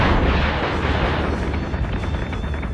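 Dense, continuous rumbling explosions from a torpedo barrage in a Battlestar Galactica space combat game, loud and close, booming steadily throughout with no talking.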